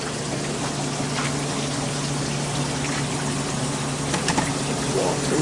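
Water rushes steadily through a newly installed line at a chicken coop, a constant dense hiss with a low pump-like hum underneath, close and continuous, with a few faint clicks and no talking.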